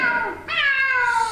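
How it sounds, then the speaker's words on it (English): A cat meows in a radio drama, with two drawn-out, close, clear meows, the second rising sharply and sustained. "It is a cat. Just a cat."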